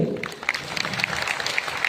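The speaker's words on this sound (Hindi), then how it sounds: "तो एक तालियां आप सब के लिए," A crowd at a Lucknow meetup claps briefly. The applause is soft and somewhat sparse, with scattered distinct hand claps and no voices.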